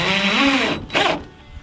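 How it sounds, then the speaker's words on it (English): A power drill bores pre-drilled holes in Tuftex greenhouse panels in winter, giving a short, close, whining burst that rises in pitch, stops briefly, then fires once more before fading. "you have to pre-drill your holes before you put the screws in"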